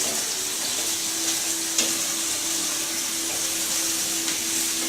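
Fresh turmeric frying in fat in a pan gives a steady, close sizzle, a constant hiss with a faint hum under it and a couple of small clicks, with no one talking.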